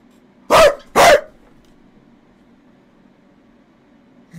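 A man imitates a dog barking with two short, loud woof sounds in quick succession, close to the microphone, followed by near silence.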